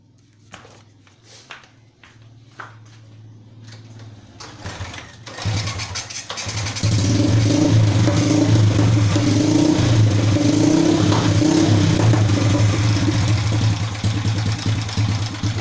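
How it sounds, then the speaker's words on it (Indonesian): A Honda Supra X motorcycle with a CDI AC ignition system is quiet apart from a few clicks, then the engine fires and settles into a steady, loud idle that runs to the end. "kita cek untuk mesinnya langsung nyala atau tidak"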